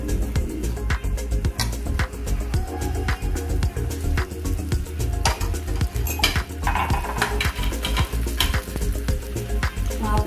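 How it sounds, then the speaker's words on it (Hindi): Fried chicken pieces being set into a simmering pan of creamy garlic sauce, with a steady bubbling sizzle under repeated clinks and scrapes of a utensil against the pan, close and busy. "अब इसमें हम रख देंगे अपने पीसेस जो हमने चिकन के फ्राई किए।"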